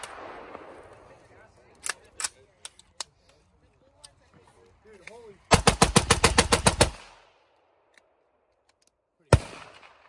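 Rapid bursts of gunfire from a favourite firearm, with scattered single shots early on, then a dense fast string of about a dozen loud rounds, silence, and one final sharp shot.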